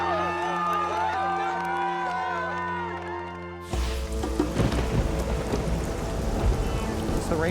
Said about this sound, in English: Rainy season here in the Pacific Northwest, so we're dealing with lots of weather